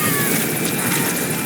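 A helicopter in the video game Metal Gear Solid V: The Phantom Pain, a support chopper arriving at a landing zone, with a steady loud rotor roar and whine filling the whole span without a break.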